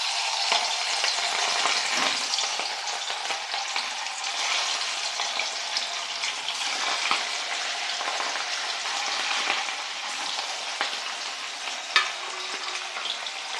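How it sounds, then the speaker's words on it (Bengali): Fish pieces rubbed with salt, turmeric and pepper fry steadily in hot oil, a dense continuous sizzle with faint crackles and a sharp spit near the end, close and without talk. "মাছগুলো আমি বেশি কড়া করে ভাজবো না, হালকা বাদামি করে ভাজবো"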